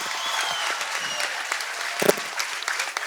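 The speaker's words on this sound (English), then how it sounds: "A round of applause to her." Continuous applause from a children's talent and spelling contest audience cheering a contestant, with dense clapping throughout and a slightly louder burst near the middle.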